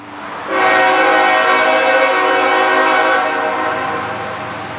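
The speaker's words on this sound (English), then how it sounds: "with the blast of a K5HL horn" A loud, steady multi-tone K5HL train horn on a loaded CSX military train blasts for about three seconds in downtown Atlanta, then fades as the train's rumble continues underneath. No voices.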